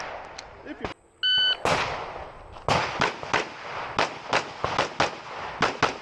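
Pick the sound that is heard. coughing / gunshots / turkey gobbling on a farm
gunshots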